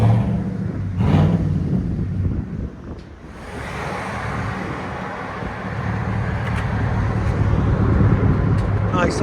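A 2020 Chevy Silverado LT with a 5.3L V8 and Black Widow Widow Maker exhaust idles in a deep, steady low rumble, with wind buffeting the microphone throughout.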